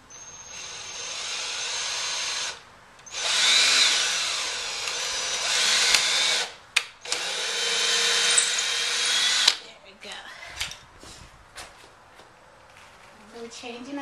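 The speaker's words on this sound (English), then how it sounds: "drill our next hole and put our screw in" A power drill whines in long bursts while boring holes and driving screws into a wooden footstool, loud and close, with pauses, clicks and handling knocks between runs.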